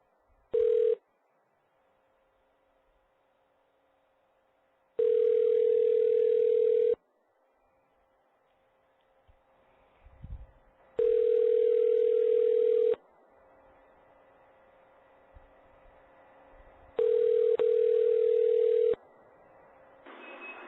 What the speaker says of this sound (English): right now, we're going to try this prank phone call and Stifler